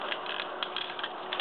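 A Transformers Revenge of the Fallen Smokescreen toy's plastic parts click and ratchet into place during transformation, a brief run of small, close mechanical clicks with no talking.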